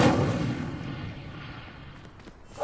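An Incendio fire spell is cast in Hogwarts Legacy: a loud, broad burst of rushing flame that hits at once and fades steadily over a few seconds.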